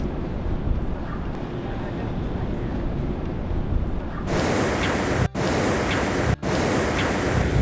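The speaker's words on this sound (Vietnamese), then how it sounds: "Phía sau lưng mình bây giờ là biển Đại Tây Dương đây" Atlantic Ocean surf on a beach: a steady, close broadband wash mixed with wind buffeting, growing noticeably louder and brighter about halfway through, with two brief dropouts near the end.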